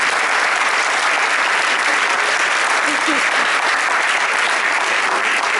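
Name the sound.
audience applause at a literary festival opening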